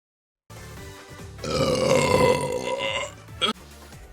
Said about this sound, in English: Do a funny burp?